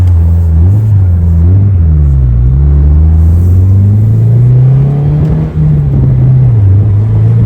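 Loud, deep exhaust rumble from a 2022-or-later Subaru WRX with a PLM axle-back exhaust on the move, the pitch rising and falling with the throttle, close and continuous throughout.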